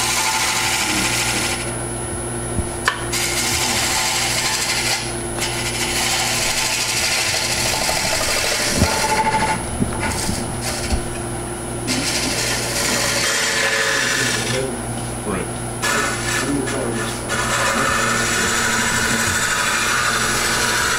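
A wood lathe spins Norfolk Island pine as a tool scrapes the surface, a loud continuous whir with hum, the cutting noise stopping and restarting in several bursts; no voices.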